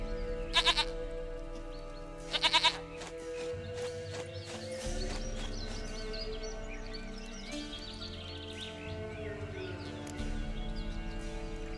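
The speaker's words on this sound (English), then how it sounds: "sweetest goat." Two short bursts of goat bleating in The Witcher 3 video game, each a quick wavering cry, heard over a steady game ambience with low background sound.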